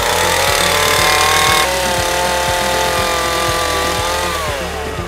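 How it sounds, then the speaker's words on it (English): A chainsaw engine roars loudly and continuously, its pitch shifting slightly, layered over pulsing background music. "Chainsaws."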